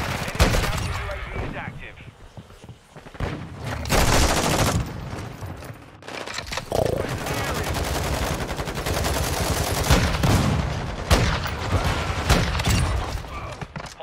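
Bursts of video game gunfire crackle in uneven volleys across the stretch, loud and close, with a voice talking at times over the shooting.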